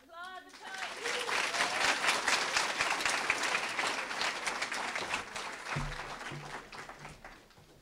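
An audience at a high school poetry slam breaks into loud, sustained clapping and cheering that swells quickly and tapers off after several seconds, with a brief voice at the very start.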